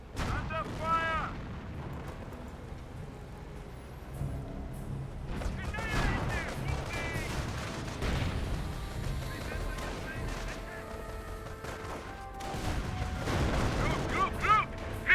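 Company of Heroes 1 battle where rifle fire crackles and artillery shells thud in repeated bursts at middle distance, with brief unit voice lines spoken over the combat.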